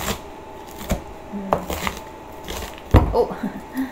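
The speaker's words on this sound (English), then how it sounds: "So I like to cut these small pieces" Knife cutting vegetables into small pieces, with several sparse, sharp taps on a board at irregular intervals over a quiet room background.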